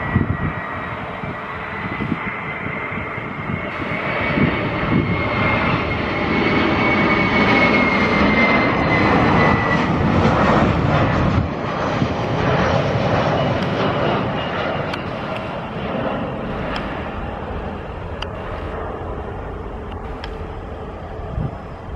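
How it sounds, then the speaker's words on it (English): An Airbus A321 with IAE engines roars past, its engine noise swelling to a broad rumble with a high whine, then slowly fading while staying loud and continuous. "A321, yep, with the IAE engines again."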